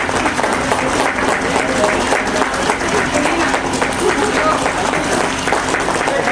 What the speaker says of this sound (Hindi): जोरदार ताली आप लोग अपने लिए हो जाए